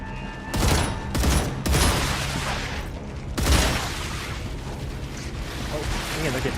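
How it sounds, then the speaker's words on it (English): Machine gun fire in the game StarRupture, loud sustained automatic bursts with heavy booming impacts. Several sharp onsets stand out over a dense, rumbling battle backdrop, and some speech is mixed in. "I am very confident in my machine gun skills."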